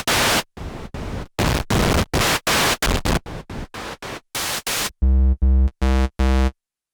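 KORG Modwave wavetable synthesizer noise oscillator firing a rapid series of short, loud bursts of hissing white and filtered noise, ending in a few buzzy pitched tones, with no voices.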